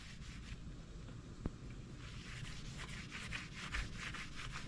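Quiet hand rubbing works something into a pack, a soft steady scrubbing texture with a faint tap partway through.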